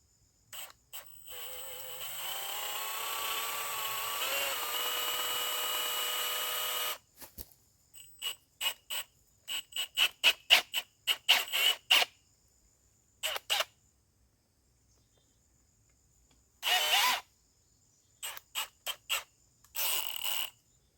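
A powered ice fishing tool drives eye bolts into ice, a long steady mechanical whine followed by many short intermittent bursts with quiet gaps between them, close by and with no talking.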